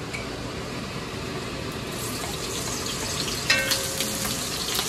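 Ingredients for menudo sizzle steadily in a hot pan, a continuous hissing fry with a few clinks and stirring noises near the end.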